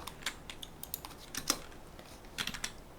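Quiet close-up typing of code on a computer keyboard, a scatter of light, uneven key clicks in short bursts with brief pauses between them, no talking.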